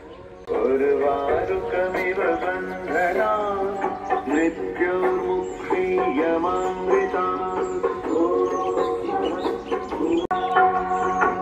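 Birds call continuously and fairly loudly in the morning at a Butwal flower garden in Nepal, with clucking, fowl-like sounds dominating a busy outdoor mix.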